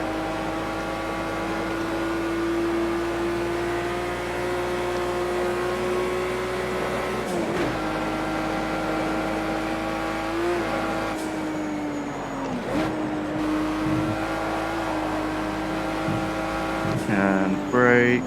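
A race car in the video game Project Cars 2 lapping the Nürburgring, its engine holding a steady high whine, with short dips between gears and a surge near the end, alongside other cars.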